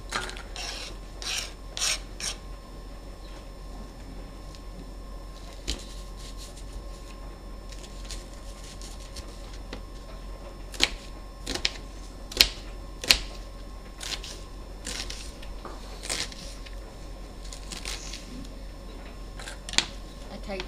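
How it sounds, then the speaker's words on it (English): A kitchen knife dicing an onion for ratatouille on a chopping board, scattered sharp taps and clusters of cuts over a low background hum, with no talking. "technically it's called dicing. that's how you cut your onion."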